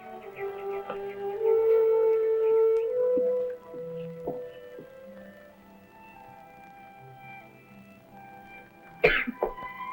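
A single short cough, close and abrupt, near the end of a quiet western film scene with soft background music.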